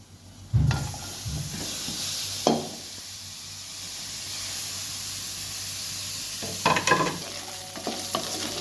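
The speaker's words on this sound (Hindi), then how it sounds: "और उस घी के अंदर हम जो है ये चिकन को फ्राई करेंगे।" Chicken frying in ghee in a pan for a desi-style chicken karahi with lamb fat gives a steady sizzle and hiss. Now and then it is broken by louder stirring scrapes and clatters.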